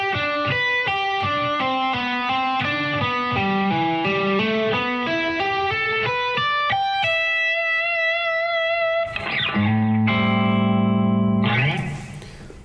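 Distorted electric guitar plays a slow lick of evenly grouped notes in triplets, ending on sustained bent notes and held chords, loud and close with reverb.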